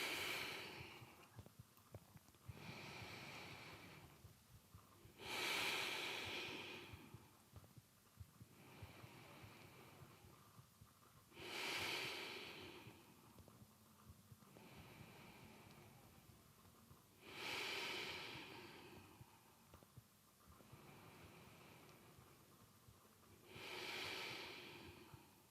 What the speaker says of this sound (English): Take a few balancing breaths here.